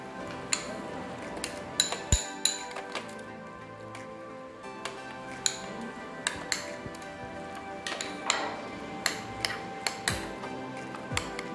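A spoon mixing mayonnaise into a vegetable sandwich filling in a bowl makes light clinks and taps against the bowl at an uneven, steady pace, close and quiet.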